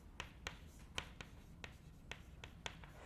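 Chalk or marker strikes a board in a lecture hall, a faint series of short, crisp taps and strokes at an irregular, unhurried pace over a low room hum.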